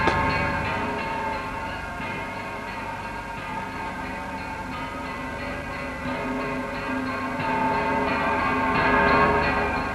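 Church bells ring continuously, their overlapping tones blending into a sustained, shimmering peal.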